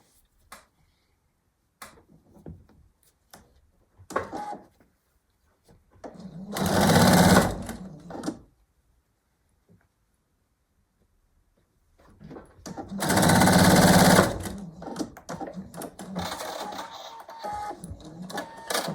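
A sewing machine stitches a quilt strip for an improv log cabin hexie block in two close, loud bursts of rapid mechanical whirring, separated by quiet handling noises and small clicks.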